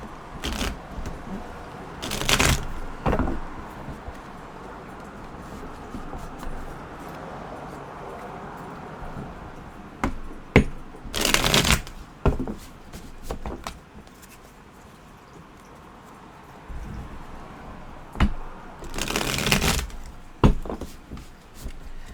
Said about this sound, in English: So let me give the cards a shuffle.